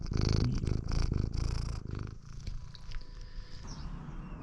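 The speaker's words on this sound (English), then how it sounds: "We're purring." A cat purrs loudly and close, a rapid rhythmic rumble that is strong at first and then softens into a quieter, steady purr, with no voices.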